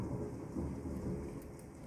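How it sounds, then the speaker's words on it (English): Heavy thunderstorm outside with rain and hail, a dense steady roar of falling water and rumble filling the space, loud and continuous with no talk. "Zeus is upset. There's hail everywhere."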